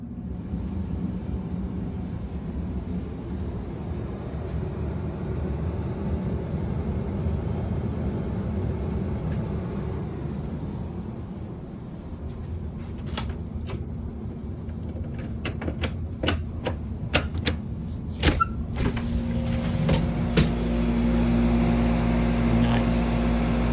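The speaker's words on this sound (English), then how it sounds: "now we're going to do air conditioning ASMR." A Carrier WeatherMaker 58SX unit running in air conditioning mode hums and rumbles steadily, joined later by clicking and ticking before settling into a louder low drone.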